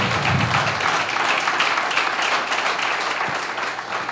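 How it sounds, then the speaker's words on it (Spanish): A church congregation at a Sunday school service applauds in a full, continuous wash of clapping that holds steady and fades slightly toward the end. "Denle las palmas al Señor"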